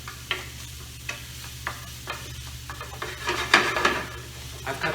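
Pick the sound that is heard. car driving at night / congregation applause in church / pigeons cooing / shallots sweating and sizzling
shallots sweating and sizzling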